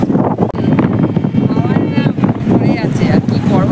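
Sea wind on the beach at Puri buffets the microphone in a steady, rough roar, with a person talking over it.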